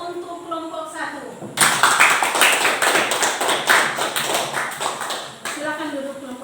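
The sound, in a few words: classroom applause for group 1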